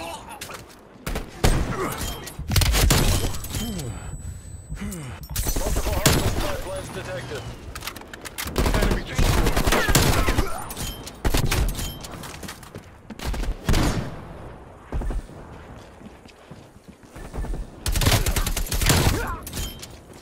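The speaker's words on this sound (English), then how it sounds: "Establish strafe run on my grid." Video-game gunfire from an AK-47 during a strafe run, with loud, dense bursts of shots and booming impacts that repeat throughout and mix with radio-style voices.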